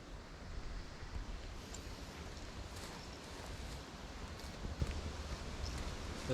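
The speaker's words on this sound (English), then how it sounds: "There's a fair bit of wind today." Steady wind buffets the microphone outdoors beside the water while fishing, a constant broadband rumble and rush with faint lapping surf, no voices.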